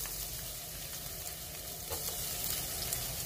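Crushed ginger, onion and garlic fry in hot oil in a pan for squid adobo, giving a steady, close, continuous sizzle that stays even throughout, with no talking.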